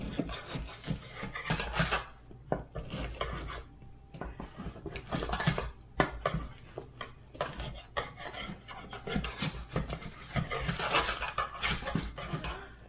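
Cheese and ham garlic bread is worked loose and tipped out of a baking pan, heard as repeated scraping, rubbing and clattering metal knocks in uneven bursts, close by with short pauses between.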